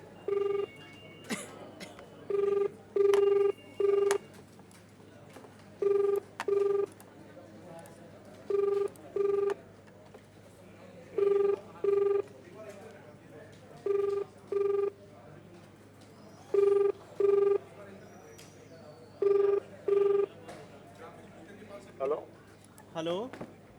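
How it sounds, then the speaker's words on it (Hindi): A phone line rings after dialing a police station officer's number in Hapur, India: a steady ringback tone in evenly spaced double bursts, repeating about a dozen times against faint background hiss. "अब डायल कर रहे हैं हम"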